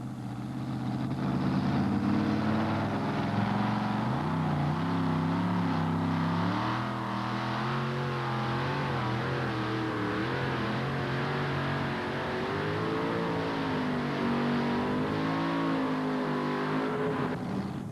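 A two-wheel-drive pulling truck at a 1988 NTPA tractor and truck pull in Syracuse, its engine roaring at high revs while dragging a heavy sled, a loud continuous drone with pitch rising and wavering as it strains down the track.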